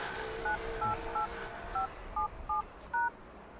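A telephone number dialed as a quick series of seven touch-tone beeps in an uneven rhythm, clear and alone over a faint background hiss.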